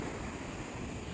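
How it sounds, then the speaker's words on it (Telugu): Rough ocean waves breaking on a beach at Thiruvananthapuram, Kerala, a steady broad wash of surf with wind noise, continuous and fairly loud with no distinct breaks. "చూస్తున్నారు కదా సముద్రపు అలలు, ఆ సౌండ్ కూడా ఎంత భయంకరంగా ఉందో."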